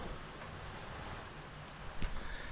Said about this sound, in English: it is good and raining